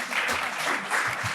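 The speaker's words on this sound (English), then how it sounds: "So please give them a round of applause." Audience applause for a panel of speakers at the close of a European AI and democracy conference session, a steady wash of many hands clapping at moderate loudness with no voices on top.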